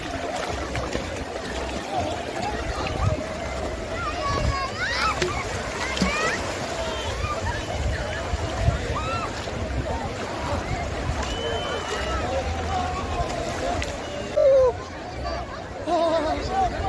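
Sea waves at Digha beach wash and splash along the shore in a steady churning surge. Voices and crowd babble from nearby beachgoers run over the surf throughout.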